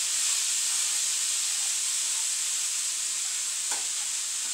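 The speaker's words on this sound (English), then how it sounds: "And now we can put our mushroom. Right, while that is cooking" Mushrooms cook in a pan with a steady, fairly loud broadband sizzle and hiss running throughout, plus one brief scrape or stir near the end; no talking.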